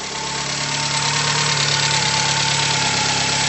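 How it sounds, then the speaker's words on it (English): A 1989 Ford Festiva engine idles steadily and smoothly, a low even rumble with a faint mechanical hum, close by and continuous with no talking. "Very smooth idle."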